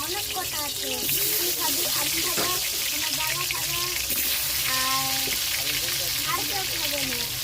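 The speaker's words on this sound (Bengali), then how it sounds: "তেল গরম হয়ে গেছে, উনুনের ইয়েতে ছেড়ে দেবো মাংসের আলু।" Meat and potatoes drop into hot oil on a stove and fry with a constant loud sizzle and crackle, while someone talks over the steady frying.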